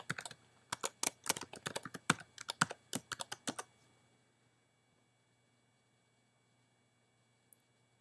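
Quick bursts of keystrokes on a computer keyboard while logging in to a university web portal, close and crisp for about four seconds before falling silent.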